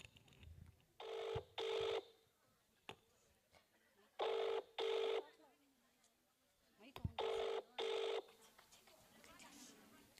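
A telephone rings in paired bursts, three double rings separated by pauses, clear and fairly close, with faint background sounds between them.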